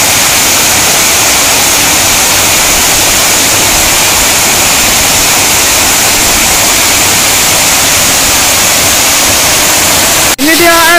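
The second Wasai waterfall roars steadily and loud, a dense continuous rush of falling water filling the whole scene, with a brief knock near the end.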